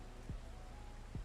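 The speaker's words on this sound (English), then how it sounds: "And it's raining." Steady rain hiss in Farming Simulator 22 fills the clip at low level, with two brief low thumps cutting in, one early and one near the end.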